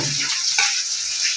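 Onion, curry leaves and dried red chilies sizzle in a hot pan with a brief stirring scrape midway, a steady close hiss of frying oil throughout.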